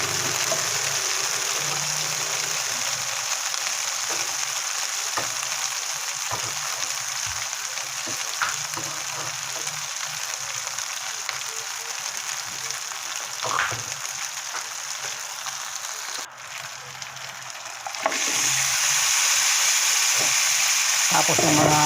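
Shrimp paste and pork hock being sautéed in a pan for a mung bean dish, a continuous loud hissing sizzle with occasional stirring clicks, close up, brightening near the end.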